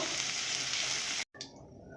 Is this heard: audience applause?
no